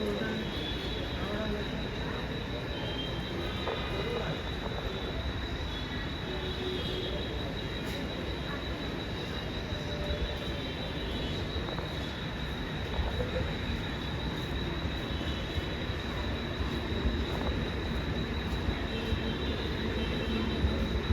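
A Mumbai local train rumbles steadily alongside a platform at Badlapur station at night, with faint wheel squeals and a busy crowd murmuring underneath throughout.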